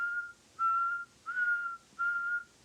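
A man whistles a short melodic tune in the closing scene of the anime Blood Blockade Battlefront, four clear sustained whistled phrases separated by brief pauses, alone and moderately loud.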